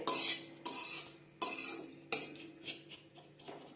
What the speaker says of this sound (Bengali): ভালো করে আমি মিশিয়ে নিচ্ছি